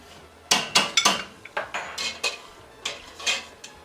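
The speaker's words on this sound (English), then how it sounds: "we're just going to stir. We're going to keep stirring and stirring." A metal spoon stirring ossobuco sauce in a pot, a series of distinct clinks and scrapes against the pot's sides in an irregular rhythm, close and clear, with no voices.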